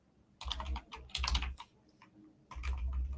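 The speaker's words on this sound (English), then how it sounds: "Let's type it in." Fingers type on a computer keyboard in short bursts of quick keystrokes, with pauses in between. The sound is close but fairly quiet, with no talking.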